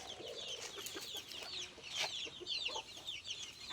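Native hens clucking around their coop, with several short chirpy calls and clucks overlapping at close range over a steady outdoor background, no talking.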